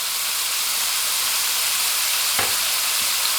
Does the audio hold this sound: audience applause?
no